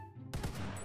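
A test shot from an upgraded modern gun in the Minecraft video game, fired once as a sharp, loud burst that breaks a quiet hum and then rings into a sustained roar.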